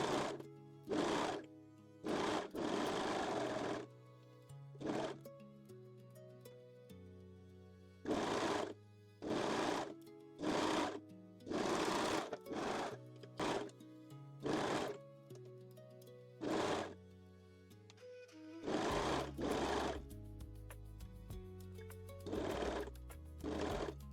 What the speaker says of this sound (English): Now we can sew all 3 layers together.